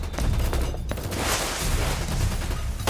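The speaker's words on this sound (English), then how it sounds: "I ducked and slid through the barrage of bullets." A steady barrage of gunfire aboard a yacht in a video game, rapid overlapping shots and bursts that keep up without a break, loud and close.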